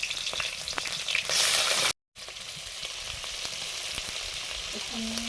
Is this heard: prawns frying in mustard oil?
yes